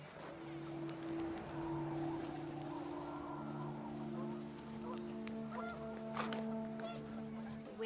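Panicked geese honk repeatedly in the video game What Remains of Edith Finch, a chorus of nasal calls that is close and fairly loud, with gusting wind behind.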